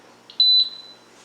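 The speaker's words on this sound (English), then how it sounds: "It beeps very, very loud." A Carey electric pressure canner gives a short, shrill electronic beep against quiet background hum.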